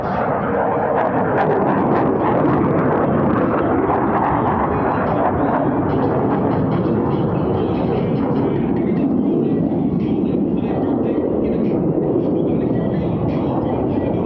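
Blue Angels jets crossing over show center at an airshow at NAF El Centro, a loud, sustained, broad roar of jet engines that stays heavy throughout, with an announcer talking over it.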